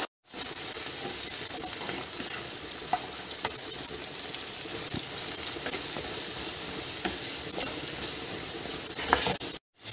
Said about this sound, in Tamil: சின்ன வெங்காயமும் அப்புறமா வந்து பச்சை மிளகாவையும் போட்டு நல்லாவே வதக்கிக்கலாம்